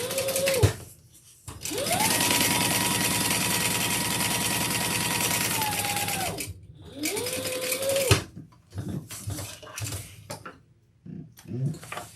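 A sewing machine stitches a seam flat in a long steady motorized run, then a shorter burst after a pause, humming and whirring up to speed and winding down, close and loud.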